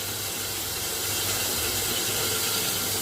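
Whole cumin seeds sizzle in a little hot oil in a pressure cooker, a dense, steady hiss that stays loud and even throughout with no talking.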